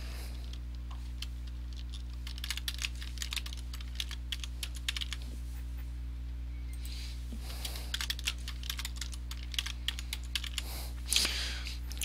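Quick, light keystrokes tap out a password on a computer keyboard in irregular bursts, close and fairly quiet over a steady low electrical hum.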